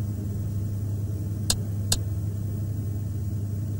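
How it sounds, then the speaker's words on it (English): Aircraft engines winding down in Microsoft Flight Simulator X give a steady, low droning hum throughout, broken by two short, sharp clicks close together. "Both engines calm down now."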